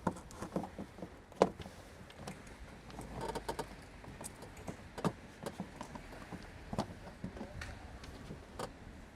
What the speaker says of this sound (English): So we're going to put the engine cover back on.